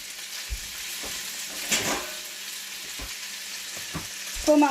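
Steak meat fries in a pan with a steady, close sizzle, broken by a few soft taps and scrapes from a utensil.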